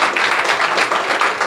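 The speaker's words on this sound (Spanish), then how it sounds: "démosle un aplauso al profesor Cristian Enríquez" An audience claps for a professor after a talk, a brief, dense, even burst of applause filling the room with no voices over it.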